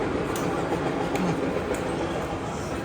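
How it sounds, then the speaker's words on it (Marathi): Freight trains rumble past at a railway station, a steady distant rolling roar with faint clatter throughout. "नुसत्या मालगाड्या लागल्या."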